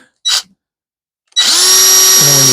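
A brief high squeal, then after a pause a power drill spins up loud and close, whining steadily as it bores into wood for a round whiskey barrel smoker.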